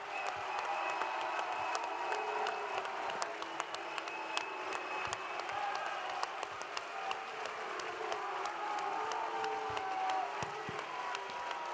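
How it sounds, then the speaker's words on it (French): A political meeting audience keeps up sustained applause for François Ruffin, a dense even patter of many hands with scattered sharper claps and faint crowd murmur, moderately distant and steady throughout. "j'aimerais vraiment qu'on applaudisse François Ruffin"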